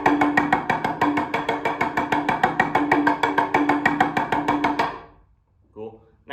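Drum pattern played in a grouping of eleven, with added groups of two: a steady, fast run of crisp evenly spaced hits for about five seconds, close and loud, ending abruptly before a brief voice.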